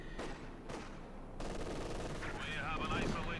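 Machine gun bursts crackle in a Company of Heroes 2 match, with sharp repeated firing in short volleys amid battle noise, fairly faint in the mix.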